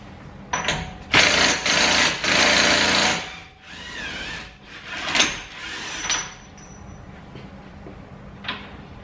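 An impact gun works a 36mm nut off the centre of a Nissan GTR driveshaft, loud rattling bursts of varying length, close and with no talk.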